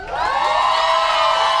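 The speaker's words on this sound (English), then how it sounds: "That's a much higher pitched scream on the second one." A studio audience at a comedy show roars in a vote, a loud sustained crowd of high-pitched screams and cheers swelling quickly and holding.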